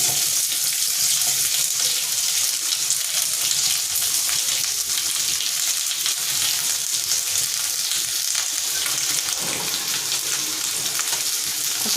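Two large, finely chopped onions fry in oil with a loud, unbroken sizzle that fills the whole stretch, close up and with no voices.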